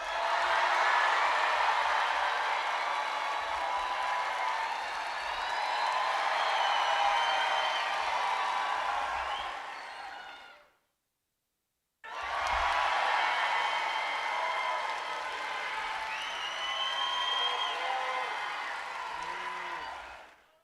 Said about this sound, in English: When I put my glasses on, you cheer.